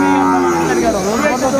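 Sahiwal bull calves on a farm in Saidpur give a loud, close, sustained moo, one long lowing call with a faint voice underneath.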